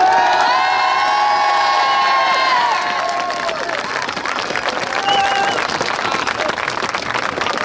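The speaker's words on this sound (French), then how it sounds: "on peut tous s'applaudir" A crowd at the Nevers Téléthon charity event in 2016 cheers, whoops and applauds loudly and continuously, with children shouting and high voices ringing out over a dense wash of clapping.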